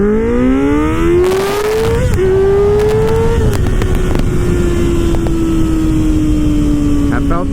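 A 2024 Kawasaki Ninja ZX-6R motorcycle launching from a stop in a 0-60 mph run, traction control off and no quick shifter: the engine screams up loud and high, a quick shift dip, then climbs again under strong wind roar, recorded close.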